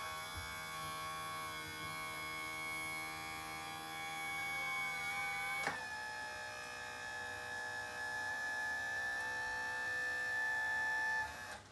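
A custom power trim and tilt unit on a 30 hp outboard motor runs as a steady electric motor whine with a buzzing hum, shifting pitch abruptly midway as it changes direction, continuous and close.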